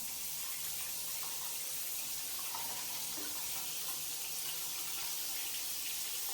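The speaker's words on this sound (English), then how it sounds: "So 8-inch wide coverage gives you that iconic rainfall shower experience." Water runs steadily from a square rain shower head with 8-inch coverage, a continuous, even hiss of falling spray heard alone throughout.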